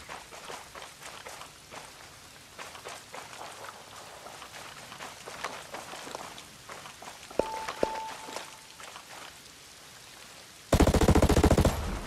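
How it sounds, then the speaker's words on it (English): Gunfire rattles in the Ghost Recon Breakpoint video game during a firefight at a deserted harbour: scattered distant shots and bursts throughout, then a loud, sustained close-range automatic burst near the end. "I hear gunfire."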